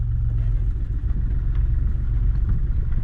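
Low, steady engine rumble from inside a car as a learner drives, a continuous hum with slight fluctuations and no voices.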